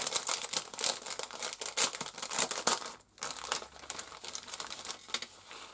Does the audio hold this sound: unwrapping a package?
yes